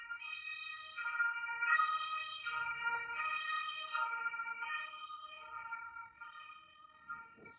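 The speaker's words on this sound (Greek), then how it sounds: "Ασθενοφόρο είναι." An ambulance siren wails with layered tones rising and falling, steady and fairly faint as if passing at some distance, sounding alone without talk.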